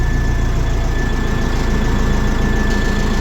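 Tractor engine idling just after starting, a steady, loud low rumble with an even pulsing rhythm and a faint high whine, continuous and close with no voices.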